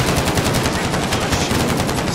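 Automatic gunfire in Call of Duty Modern Warfare, a loud continuous burst of rapid shots filling the whole moment without pause.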